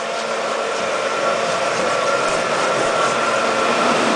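A commercial floor cleaning machine runs continuously while stripping and waxing a floor, a steady, loud motor whine with broadband whooshing that holds even from start to finish, with no voices.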